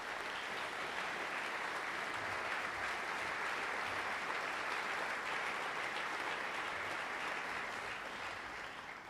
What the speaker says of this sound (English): Can our chaplains please stand up and give them a huge round of applause